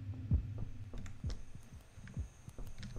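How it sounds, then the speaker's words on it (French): A heartbeat effect in the Garry's Mod Slashers game thumps in low, faint, regular beats over a humming background, with no speech. "J'ai entendu les battements de cœur"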